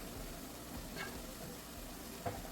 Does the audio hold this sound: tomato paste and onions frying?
yes